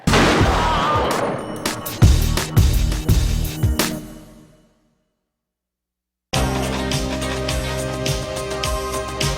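Dense burst of gunfire from the final shootout of the film Scarface, loud overlapping shots for about four seconds, then a sudden silence before heavy shooting resumes just as loudly.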